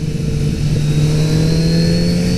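A 2018 Kawasaki Z900RS motorcycle engine under way, a steady droning exhaust note with a strong low hum and faint whine layered above, continuous and close with no talking.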